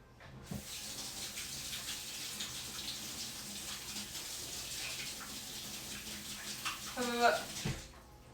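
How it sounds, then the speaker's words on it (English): A frosting piping tip is rinsed under a running kitchen tap: a steady, fairly soft stream of water with splashing, then a few small clinks and a brief gush near the end. "so let me rinse this off again"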